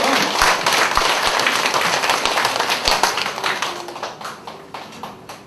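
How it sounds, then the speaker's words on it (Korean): An audience claps at a lecture for marriage counselors, giving a burst of dense applause that gradually thins out and fades over several seconds. "박수를 쳐야 돼요."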